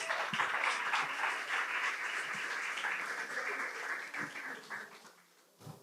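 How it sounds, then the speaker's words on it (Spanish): Applause fills a church service after a preacher's call to clap for God, a steady wash of many hands that holds for several seconds before thinning and fading toward the end. "Denle un fuerte aplauso a Dios."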